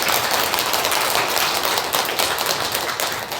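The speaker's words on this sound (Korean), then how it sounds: "우리 다시 한번 우리 수고한 성가대를 위해서 한번 박수 한번 보내주세요" A church congregation applauds the choir after its performance. The clapping is a dense, even wash that carries on without a break, with no voices over it.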